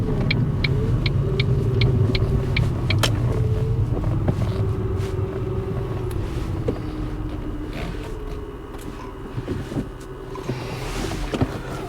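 A Ford Mondeo ST220 engine rumbles as the car slows and pulls into a petrol station, a low steady drone with clicking ticks early on and wind noise fading toward the end.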